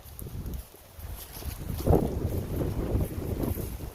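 Gusty wind blows across a snowy mountainside, a rough low rumble of buffeting on the microphone that swells and eases in waves, with no clear speech.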